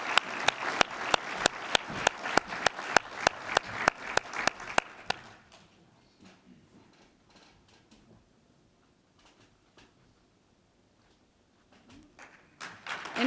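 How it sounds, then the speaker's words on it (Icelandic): Audience applause at an Icelandic insurance company's prevention awards ceremony, with loud, dense rapid clapping for about five seconds that then breaks off abruptly, leaving scattered faint claps and room noise. "Gefum Coripharma gott klapp"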